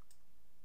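A single faint, sharp mouse click near the start, followed by quiet room tone with no talk.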